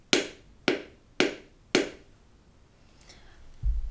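A peanut butter jar is tapped four times in quick, even succession, giving bright, high-pitched, sharp clicks close by. After a short pause there are faint rustles and a low thump.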